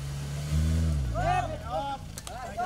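A car on a rough track to a Baduy village drives on after getting past an obstacle, its engine revving and groaning up close while voices talk over it.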